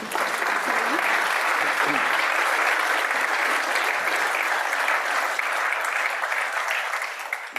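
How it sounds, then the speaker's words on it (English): Plenary audience at a UK greenhouse gas removal conference applauds steadily for several seconds, a dense, even wash of clapping that thins slightly near the end. "So if we could give them a round of applause"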